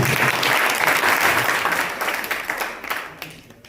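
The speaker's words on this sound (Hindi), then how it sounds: "तालियां बच्चे के लिए।" Applause for a child at a government higher secondary school event, dense clapping from a crowd that tapers off toward the end, with faint voices underneath.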